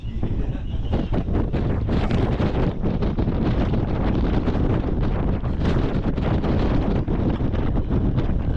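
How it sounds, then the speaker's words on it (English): Strong wind on a mountain top in the Canadian Rockies buffets the microphone continuously in loud, gusty rumbling blasts, with no other sounds standing out. "It's windy up here."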